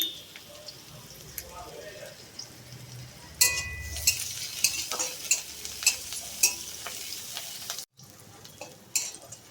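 Chillies frying in hot oil with cumin, garlic, chopped onion and bay leaf for a vegetarian ash gourd dish, a steady sizzle with repeated scraping stirs and metallic clinks, a voice talking early on.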